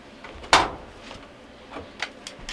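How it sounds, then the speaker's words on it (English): A Frigidaire clothes dryer door swings open during a repair, giving one sharp latch-release clack followed by faint rattles and small clicks, close by, with no talking. "Now I'm going to open up the door"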